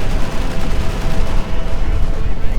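Tank gunfire in the World War II strategy game Company of Heroes 2, as a Soviet IS-2 battles German Panzer IVs: a loud, dense barrage of booming shots and rumbling explosions that continues without a break.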